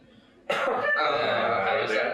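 A single sharp cough bursts out after a moment of quiet, close and loud, then trails into a rough throaty rasp for over a second.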